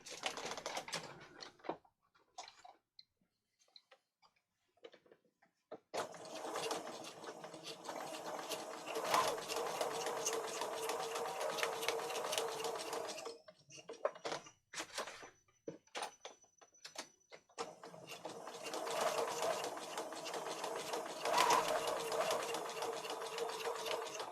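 A sewing machine stitches close to the edge of a file folder in bursts of fast, even, buzzing needle strokes, separated by short quiet pauses.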